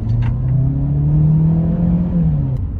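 A 2024 Ford Territory Trend SUV with a 4-cylinder engine and 7-speed dual clutch transmission accelerates, its engine drone rising steadily in pitch, loud and close from inside the cabin, with no talking.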